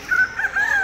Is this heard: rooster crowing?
yes